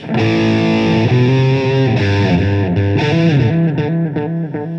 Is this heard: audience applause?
no